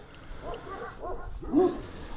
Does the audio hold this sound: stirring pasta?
no